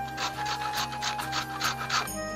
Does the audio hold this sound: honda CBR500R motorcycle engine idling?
no